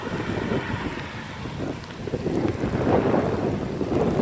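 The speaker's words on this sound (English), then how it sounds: "This is a massive amount of water moving through here" A massive volume of floodwater rushing down a street and into a corner drain pipe, a loud continuous turbulent roar with wind buffeting the microphone.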